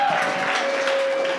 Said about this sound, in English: So, another round of applause for Mr.